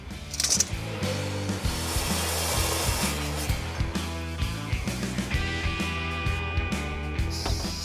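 Roll cage main hoop tube for a 1992 Camaro autocross build being cut to length with a power saw, a loud, continuous rhythmic grinding rasp close to the listener.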